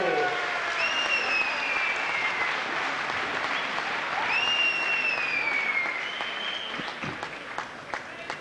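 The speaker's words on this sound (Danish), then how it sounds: "at Johnny faktisk også stod og klappede." A boxing arena crowd applauds as a boxer from Puerto Rico is introduced, a loud sustained wash of clapping that fades a little toward the end, with whistles and shouts rising above it.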